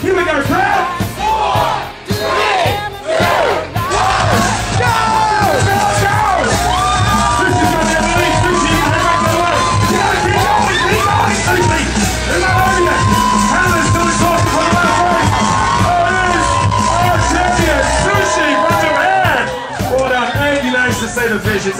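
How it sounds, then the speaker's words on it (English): A crowd at a world championship goldfish race yells a countdown and "go" in unison, loud and close, followed by sustained cheering and whooping. "I want all of us to yell out 4, 3, 2, 1, go."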